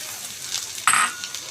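Samosa filling with garam masala and chopped coriander leaves stirred in a pan: a soft sizzle, then one sharp, close scrape of the spoon that fades out.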